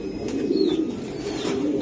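A red checker racing pigeon coos in a low, steady murmur that runs through the whole short stretch, close by and fairly loud with no talking.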